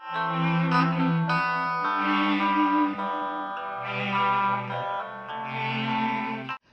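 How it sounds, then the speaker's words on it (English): A bass guitar line drenched in echoing, chorus-like effects, sustained harmonic tones swelling and overlapping with no voices. "This echoey sound that was in the background of the melodic interlude"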